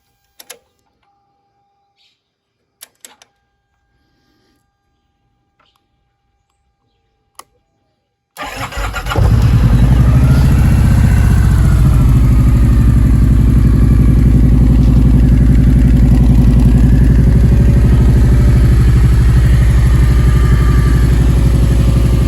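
Kawasaki Vaquero 1700 cruiser motorcycle: a few faint clicks and taps in near silence, then the V-twin cranks and fires at about eight seconds and settles into a loud, steady, throbbing idle close by.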